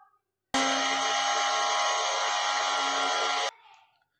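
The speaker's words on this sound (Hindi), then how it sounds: "चीनी ले लेनी है आपने थोड़ी सी उसे आपने ग्राइंड कर लेना है ग्राइंडर में" An electric kitchen grinder blends sugar in one loud, steady whir lasting about three seconds, starting and stopping abruptly, followed by a brief rattle as it winds down.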